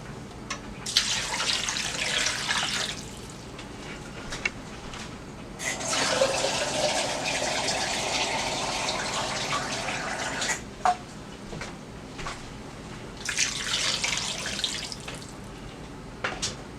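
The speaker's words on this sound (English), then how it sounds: "So I'm adding water." Tap water runs into a cooking pot holding pork ribs, a steady rushing splash in three long bursts with brief pauses between, close and fairly loud with no talking.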